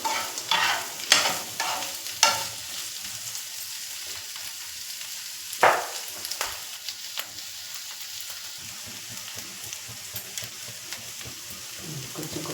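Upma being stirred in a pan with coriander leaves, scraping spoon strokes over a low sizzle, with several sharp clatters early on and a steady soft crackle throughout, no talking.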